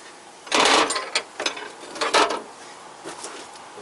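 Wrench loosening an alternator bolt on a 1991–2004 Honda Civic, a few close metallic ratcheting and grinding bursts over a steady background hum.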